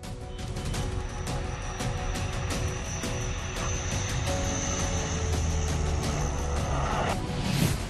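Fighter jets flying over the Purvanchal Expressway, a loud, steady roar of jet engines that holds and swells slightly across the whole stretch, with no talking.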